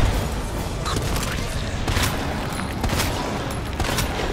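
Rapid bursts of gunfire in Resident Evil 2 Remake crackle over a dense, noisy background, several sharp shots clustering in quick succession.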